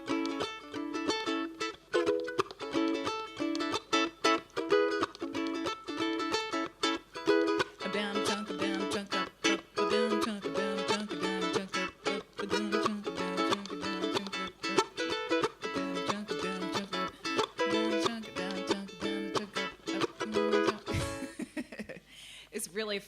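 A ukulele strums the chords of a song at full tempo, a fast, jaunty pattern with steady rhythmic chops that runs close and alone for about twenty seconds before stopping abruptly.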